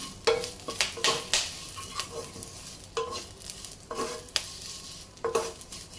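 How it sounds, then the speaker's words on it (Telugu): Curry leaves fry in a pan over a medium flame for curry leaf powder, and a spatula scrapes and stirs in repeated uneven strokes over a soft, steady sizzle, close and moderately loud. "ఇట్లా మనము దాన్ని ఫ్రై చేసుకుంటూ ఉండాలి మీడియం ఫ్లేమ్లో పెట్టుకొని"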